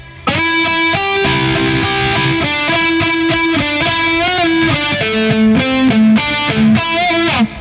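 Distorted electric guitar plays a lead line from a song, with steady picked notes, slides and string bends, loud and close throughout, no voices.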